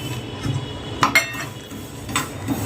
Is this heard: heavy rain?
no